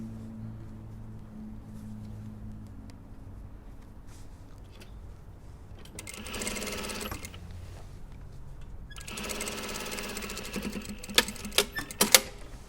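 Sewing machine stitching the split on a blouse sleeve, a quiet low hum at first and then two bursts of rapid mechanical stitching, followed by a few sharp clicks.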